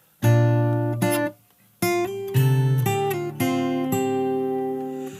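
Acoustic guitar played fingerstyle runs through the second bar of a chorus: a handful of clear plucked chords and ringing notes with brief gaps between them, close and moderately loud, no voices.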